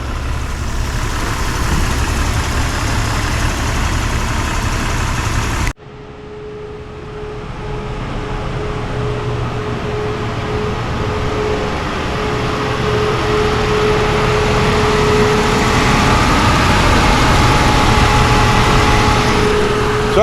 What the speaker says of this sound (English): And now we're going to let it idle for 50 minutes.